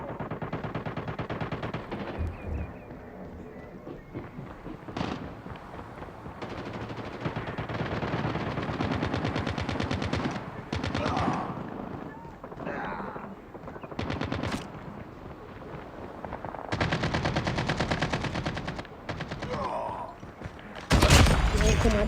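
Call of Duty shotgun fire rings out in repeated loud bursts through most of the stretch, close and aggressive, with a voice talking over parts of it.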